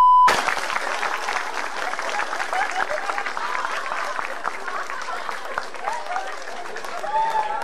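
Audience applause at a stand-up comedy show, sustained clapping from a crowd that rises abruptly and continues steadily at moderate loudness, with voices faintly mixed in.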